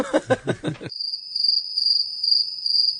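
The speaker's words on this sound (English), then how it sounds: "Crickets." A short burst of speech-like babble cuts off abruptly into a steady, high-pitched cricket trill that carries on alone, the comedic silence-filler kind.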